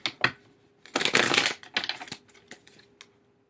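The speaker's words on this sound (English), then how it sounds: "I'm going to pull one more card." Tarot cards are shuffled and one is drawn, close and clear, with crisp riffling bursts and scattered papery taps and flicks.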